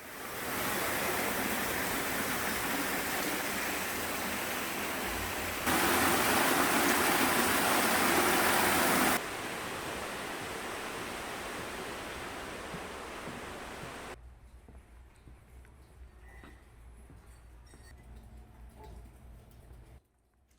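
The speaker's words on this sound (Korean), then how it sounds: "물소리가 아주 시원했습니다." Clear first-grade groundwater flowing through a wine cave in the Gwangmyeong cave mine, a steady broad rush that holds level, grows louder for a few seconds, then drops to a quieter, hollow trickle.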